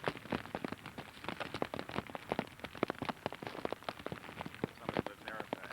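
Rain falling on a beach, a dense patter of drops striking the surface, with irregular louder hits and a wet, crackling texture throughout.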